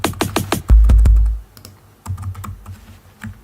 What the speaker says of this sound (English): I use MIDI and also, of course, the musical typing